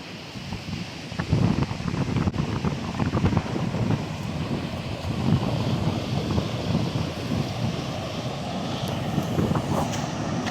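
Strong sea waves and gusting wind batter a coastline during Typhoon Uwan, a constant loud roar of surf and wind with no pauses.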